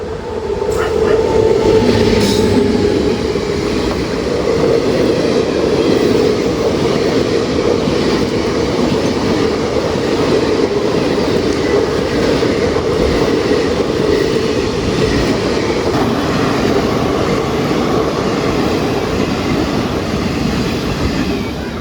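The Vanchinad Express rumbles steadily into Thiruvananthapuram Central station for the whole stretch, a loud continuous low roar with faint rattling and a brief squeal, no voices over it.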